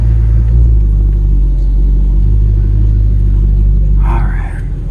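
Gated Audi R8 engine rumbles low and steady from inside the cabin while driving, a constant heavy drone with a brief murmur of voice near the end.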